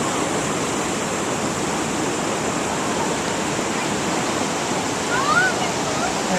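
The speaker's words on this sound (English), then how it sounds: "And we have lots of water kind of going all over the place here." Floodwater of the Poudre River rushes loudly beneath the Wilson Street Bridge in Loveland, Colorado, during flooding, a steady, dense roar that fills the whole clip with no speech.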